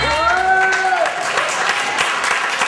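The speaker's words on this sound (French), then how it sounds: "On l'applaudit très fort" Loud applause from a concert crowd in Paris, a dense burst of clapping that follows the fading last notes of the band and continues steadily for a few seconds.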